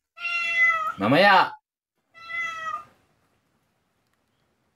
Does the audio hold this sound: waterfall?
no